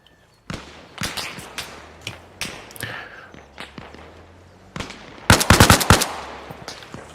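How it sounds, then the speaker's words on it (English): Gunfire in the military shooter game ARMA Reforger, scattered single shots and cracks building into a rapid close burst of automatic fire near the end, with no talk. "I just heard gunfire."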